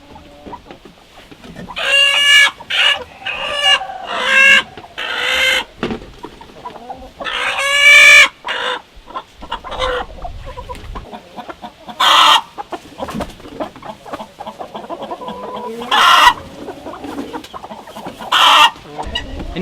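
Chickens on a pasture cluck and squawk in repeated bursts, some loud and close, others softer, with a rooster crowing among them and occasional quiet gaps between calls.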